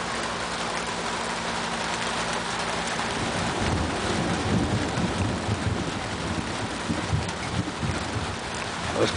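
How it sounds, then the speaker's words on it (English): Thunder rolls low and long through a summer thunderstorm, a broad distant rumble swelling and lingering over steady rain, with no voices. "That was quite the rumble of thunder right there."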